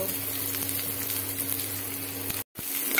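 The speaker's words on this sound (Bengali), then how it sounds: "আমি পেঁয়াজগুলো একদম লো টু মিডিয়াম ফ্লেমে রেখে ভেজে নেব" Onions frying in white oil in a frying pan over low to medium flame, a steady broadband sizzle with a constant low hum underneath, broken by a brief dropout near the end.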